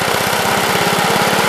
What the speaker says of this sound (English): this is one of these tractors that won't idle real low